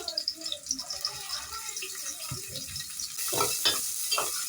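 Chopped onion and green chilies frying in a pan for khuder bhat, a gentle sizzle with stirring scrapes that grows louder and busier toward the end, close by, with a voice talking faintly underneath.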